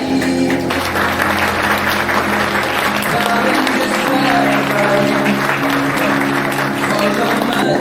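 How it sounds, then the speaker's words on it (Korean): Sustained applause from a large crowd of wedding guests fills the hall as the bride and groom enter, steady and dense throughout, with faint background music and voices underneath. "큰 박수로 맞이해 주시길 바랍니다."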